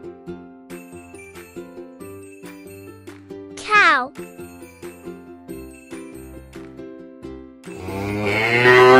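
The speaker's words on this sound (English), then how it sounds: "Ox." A low, drawn-out moo rings out over a bouncy, chiming tune, followed by a swelling burst of sound near the end.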